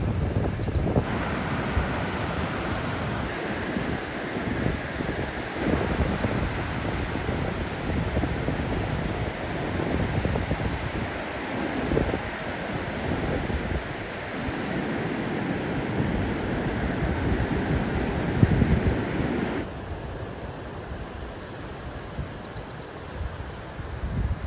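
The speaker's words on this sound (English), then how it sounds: "Breezy morning here at Crescent Beach." On a breezy morning at Crescent Beach, Washington, steady wind buffets the microphone over the constant roar and wash of ocean surf, loud and close throughout with no voices.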